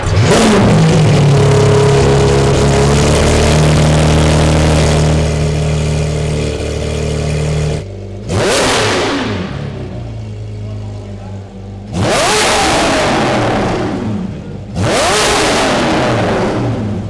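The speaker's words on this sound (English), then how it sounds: "So the exhaust is in. Let's see what it sounds like." Lamborghini Revuelto fitted with a new Gintani exhaust, revving loudly close by, with a long rising run and then several sharp throttle blips separated by drops back toward idle, while people talk.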